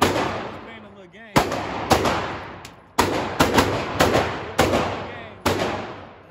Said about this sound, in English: We got 3 shots.